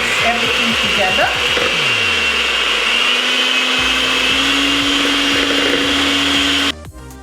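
A blender whirs loudly and steadily while mixing crêpe batter, its motor pitch climbing as it spins up, with short rhythmic pulses at the start before the run cuts off abruptly at the end.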